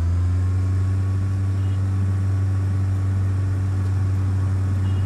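Steady droning aircraft engine in Flight Simulator X during the takeoff roll, throttle opening gradually, a continuous loud hum with a strong low tone and no voices.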